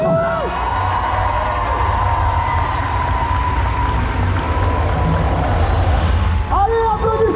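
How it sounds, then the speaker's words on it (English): A convention panel audience in Toulouse cheers, whoops and applauds loudly and continuously for a guest actress, with shouting voices rising above a dense crowd roar that lasts throughout. "sous un tonnerre d'applaudissements"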